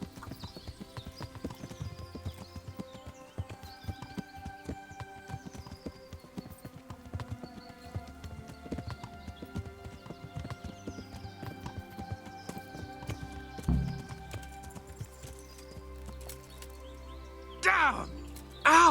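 Horse hooves clip-clopping in the medieval game Kingdom Come: Deliverance, a steady close rhythm of hoofbeats running throughout, with a brief whinny and louder knocks near the end.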